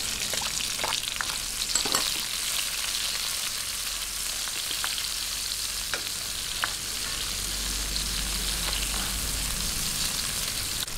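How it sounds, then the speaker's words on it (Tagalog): Garlic and onion sautéing in a hot pan for chicken pochero, a continuous loud sizzle and crackle with occasional spoon scrapes and stirs, close up and without talking. "gisa-gisa lang hanggang mag golden brown o mag light brown itong ating bawang. Ayan, lagay po natin ang sibuyas."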